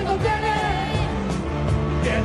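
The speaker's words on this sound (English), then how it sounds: "At least one of which we learned sounds like this, at least when Milei sings it" Argentine President Javier Milei sings an Argentinian rock song, his voice strained and shouty over a noisy, echoing background, in a short burst of about two seconds.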